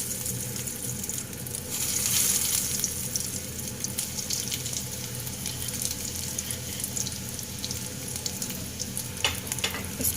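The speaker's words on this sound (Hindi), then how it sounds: "अब हम इसको फ्राई करेंगे। ऑयल हमारा यहाँ बिल्कुल गर्म है।" Potato cutlets fry in hot oil in a pan, giving a steady, close, dense sizzle that rises slightly early on and holds throughout with no talk.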